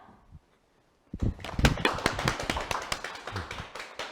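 A lecture-hall audience claps to welcome a physics professor to a Saturday science talk. A sharp burst of many distinct claps starts after a short silence and continues steadily to the end, fairly close.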